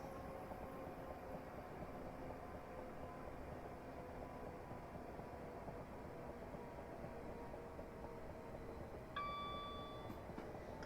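A passenger train on the Chatham Main Line, Dover Priory to London Victoria, coasting and braking to a stop: a low, steady rumble and hum throughout, with a brief high-pitched brake squeal near the end.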